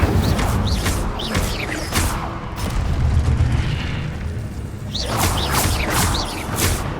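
The Incendio fire spell being cast in the Hogwarts Legacy video game: a loud, continuous roaring burst with deep booming rumble and whooshing surges, crackling bright flares sweeping through it, a brief lull, then a second fiery swell.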